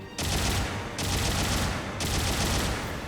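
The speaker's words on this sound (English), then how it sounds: "you have to use your heavy Vulcan cannon, which is really interesting" A heavy Vulcan cannon fires in Gundam Battle Operation 2, the Guncannon Heavy Arms pouring out three long, dense bursts of rapid gunfire with short gaps between them, loud and continuous with no talk over it.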